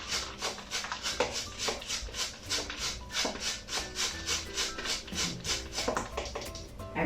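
A whole cauliflower is grated on the coarse side of a grater in a kitchen, making steady, rhythmic scraping strokes, about three per second, close and fairly loud, with no voices.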